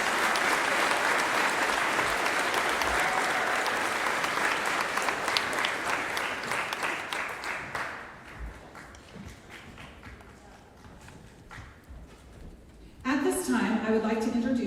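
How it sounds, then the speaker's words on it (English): Audience applause at a high school graduation and middle school promotion ceremony in Dixon, honoring students. Dense, loud clapping from a large crowd fades gradually over about eight seconds to scattered claps, then a voice begins speaking. "Let's have a round of applause for these outstanding students."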